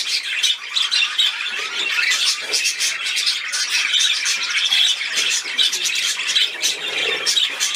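A gull squawks over and over in dense, harsh calls that fill the whole stretch, close and loud, with no talking.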